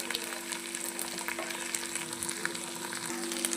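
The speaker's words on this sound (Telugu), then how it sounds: "ఒక స్పూన్ అల్లం వెల్లిపాయ పేస్ట్ కూడా ఇందులో వేసుకొని చక్కగా ఫ్రై చేసేసుకోవాలి" Ginger garlic paste sizzles and spits in a hot pan while cooking chicken fry, a steady close crackle with a few stirring scrapes throughout.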